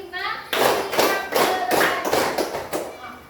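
A classroom of children claps in counted groups, sharp bursts of hand claps arriving in distinct clusters roughly every half second, close and fairly loud, with young voices mixed in among the beats.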